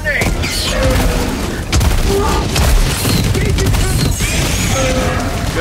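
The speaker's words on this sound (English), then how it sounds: "Throwing grenades." Grenade blasts in the Helldivers 2 video game, heavy booms and crackling bursts repeating across the stretch amid constant loud battle noise and gunfire, with voices talking over the chaos.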